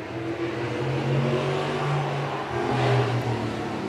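Modified race cars roar around a short oval track, a loud rumbling engine drone that swells and fades as the pack passes, with no voices.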